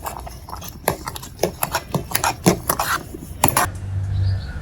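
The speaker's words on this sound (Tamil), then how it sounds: "நெக்ஸ்ட்டு நம்ம பொடிச்சு வச்ச வெல்லம் போட்டு நல்லா கிளறி விட்டுறலாங்க." A spoon clanks and scrapes against a pot while powdered jaggery is stirred into cooked rice and lentils for sweet pongal, irregular metallic knocks close by, followed by a brief low hum.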